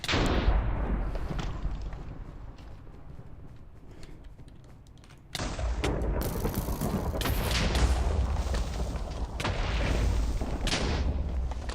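Goblins mod bombs explode in Minecraft as a run of sharp booming blasts. The bursts come in rapid clusters, loud and close, with a quieter stretch before a second heavy volley.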